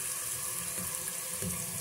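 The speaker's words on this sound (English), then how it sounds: "Turn the water on here." Kitchen sink tap running, a steady broadband rush of water that stays constant and fairly loud for the whole short stretch, with no voices over it.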